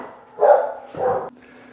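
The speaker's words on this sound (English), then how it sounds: "So, dog was barking." A dog barks twice, loud and close, indoors in a kitchen while pizza blanca is being made, followed by a faint lingering whine.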